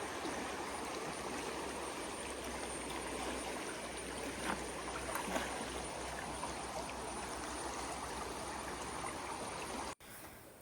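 River water flowing outdoors near a village: a steady, close, full rushing wash of running water that continues evenly and cuts off abruptly near the end.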